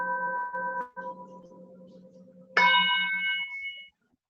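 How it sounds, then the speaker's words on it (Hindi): A hand bell rung to draw attention gives two clear metallic strikes, each a bright ringing tone that slowly decays, the second louder and sharper, heard alone in a quiet room. "मैं अपनी घंटी बजा देती हूँ ताकि इस घंटी पे पूरा ध्यान दें"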